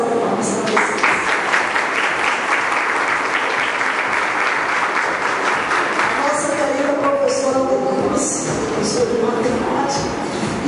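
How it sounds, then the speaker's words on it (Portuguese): A crowd at an award ceremony in Brazil gives strong, dense applause that swells and then thins out, with scattered voices and some cheering heard toward the end. "uma salva de palmas para vocês"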